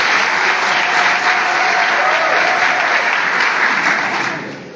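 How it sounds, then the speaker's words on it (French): Loud, sustained applause from an audience in a hall at a political ceremony in Abengourou, a dense even roar of clapping that fades at the end. "applaudissez-vous très fort."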